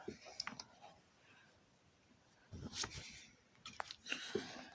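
A title is typed on a computer keyboard, with faint, scattered keystroke clicks in small irregular clusters in a quiet room.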